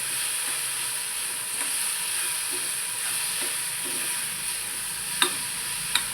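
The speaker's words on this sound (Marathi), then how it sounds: "कांदा टोमॅटो आणि बटाटा हा शिजलेला आहे बघा कसं सुंदर कलर पण आलेला आहे त्याच्यामध्ये आता आपण पोहे टाकणार आहे" Onion, tomato and potato frying in a pan for poha, a steady close sizzle and hiss with soft stirring scrapes and two sharp utensil clinks near the end.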